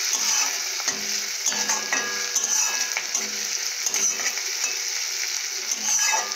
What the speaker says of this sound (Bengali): তারপরে আমি আলু দেব। তো আমি এইভাবে ভালো করে ভেজে নেব।